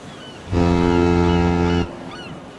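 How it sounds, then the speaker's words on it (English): A single loud, deep foghorn blast, used as a sound effect over closing credits, holds steady for about a second and a half before cutting off abruptly, alone against faint background noise. "there was a loud foghorn playing over the credit sequence"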